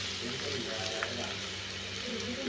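Ponnaganti greens curry with turmeric being stirred in a pan, a steady low sizzle and soft scraping mixing throughout, close and continuous, with some faint voice in the background.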